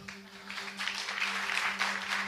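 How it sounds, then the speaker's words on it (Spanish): A church congregation applauds the fathers, steady clapping from many hands filling the room at moderate loudness over a low constant hum, sustained without pause throughout. "Vamos a darle un aplauso a esos padres."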